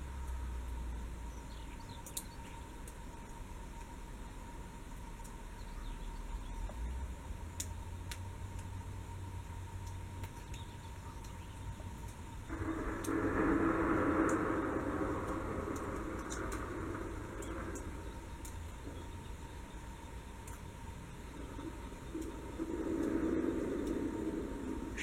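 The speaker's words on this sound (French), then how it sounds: "En fait, on n'est pas loin d'une usine à cailloux." Steady low mechanical rumble from a nearby stone quarry plant, with bursts of rough, gritty noise like rocks tumbling, faint and continuous under a distant high whine.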